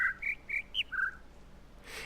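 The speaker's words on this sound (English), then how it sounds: "I kind of wish that they had used a different bird sound" In the game The Witness, a bird gives a short run of four or five bright whistled chirps at varying pitch, clear and fairly close, followed by a brief soft rustle.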